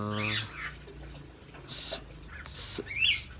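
A tame pet jalak kebo, an Asian pied starling, gives a few short, harsh, squawky calls and chirps close by, separated by gaps over a low background hum.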